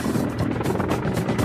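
A Mil Mi-24 Russian military helicopter, its rotor and engine producing a loud, steady broadband roar with a faint rhythmic blade chop, heard alone with no talking.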